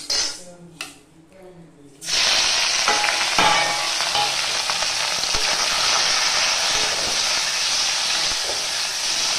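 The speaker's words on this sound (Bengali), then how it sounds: "তেলও দিয়ে দিয়েছি, কড়াই গরম হয়ে গেছে। এবার মাছগুলো ভেজে নিই।" A short voice, then loud, steady sizzling of small fish (mourola) frying in hot oil in a wok, crackling continuously and close by.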